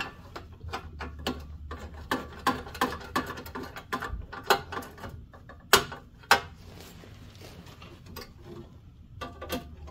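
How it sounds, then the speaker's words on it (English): Screws being tightened on a Troy-Bilt snow thrower during a no-start repair: a run of close, irregular metallic ticks and small clicks from a screwdriver working the top retaining screw and the grounding screw, with no talking. "Now we can tighten the screws, the top retaining screw,"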